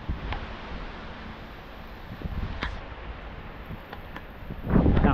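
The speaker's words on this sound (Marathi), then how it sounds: "जाम जोरात बघा पाऊस चालू झाला मध्येच" Sudden heavy rain arrives with gusty wind in a village, and a rough, blustery rush buffets the microphone. A louder burst swells near the end.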